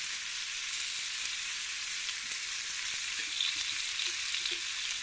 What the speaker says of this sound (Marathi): आता कांदा चांगला तळून घ्यायचा आपल्याला परतून